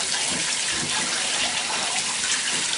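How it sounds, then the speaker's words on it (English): Shower spray rinsing degreaser off a sewing machine, a loud close continuous gush and splatter of water with no talk. "Now let's go ahead and rinse that first one off here."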